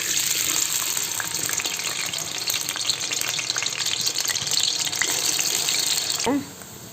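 Steady loud sizzling of tapioca slices frying in hot oil for chips, a continuous crackling hiss that drops off abruptly near the end.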